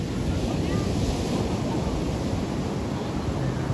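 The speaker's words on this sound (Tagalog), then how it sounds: "Ang lakas ng alon." Powerful ocean surf rolls onto a tourist beach lined with resorts, a steady, loud, broadband roar of crashing waves mixed with wind buffeting the microphone throughout.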